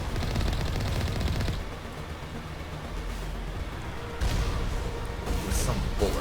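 The Mako vehicle in Mass Effect fires bullets in a fast, steady stream for about a second and a half, then engine and battle rumble carry on, with further bursts and impacts near the end.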